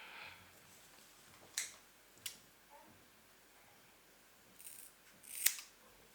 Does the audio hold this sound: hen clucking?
no